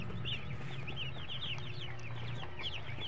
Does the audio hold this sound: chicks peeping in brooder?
yes